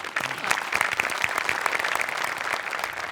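Studio audience applauding performers after a comedy sketch on a Marathi comedy show: dense, continuous clapping that stays loud and steady throughout, with no voices over it.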